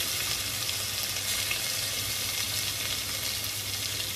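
Coarsely crushed garlic fries in hot oil with asafoetida, cinnamon and black cardamom, giving a steady, even sizzle throughout, close and moderately loud with no speech.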